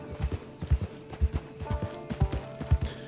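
Horse hooves clip-clop in a steady, rhythmic trot in Red Dead Online, close and even-paced over a faint ambient bed, with no talking.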